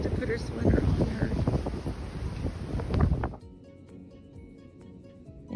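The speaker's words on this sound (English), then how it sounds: "It is so windy." Strong wind roaring and buffeting the microphone during a Minnesota blizzard, loud and gusty for about three seconds before cutting away to a quieter indoor background.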